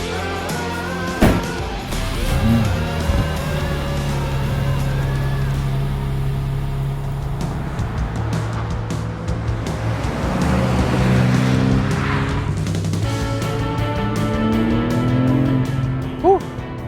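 A BMW M4 engine rasps from inside the moving car, with a loud, sustained drone that climbs and falls in pitch through gear changes alongside road and wind rush.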